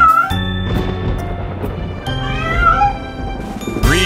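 Kittens meowing in a nursery rhyme song, several high, drawn-out meows that overlap and rise over a musical backing, close and fairly loud.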